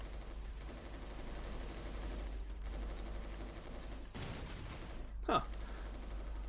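Muffled, low gunfire shots from Resistance: Retribution sound in quick bursts under a steady game hum, fairly faint, with a brief sharp whoosh and a short spoken exclamation near the end.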